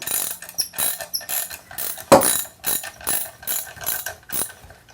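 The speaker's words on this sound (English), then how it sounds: "Now I loosen the bolt and can remove it." A ratchet wrench loosens a bolt in a run of close, crisp clicking bursts, several separate ratcheting strokes with short pauses between them.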